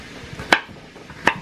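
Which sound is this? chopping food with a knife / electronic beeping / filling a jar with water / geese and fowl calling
chopping food with a knife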